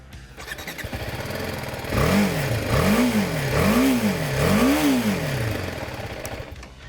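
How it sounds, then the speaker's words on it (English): A 2017 BMW G310R single-cylinder motorcycle engine idles through a large exhaust canister, then revs up and down four times in steady, evenly spaced blips before settling back to idle. "the exhaust canister is large, but it's not particularly loud"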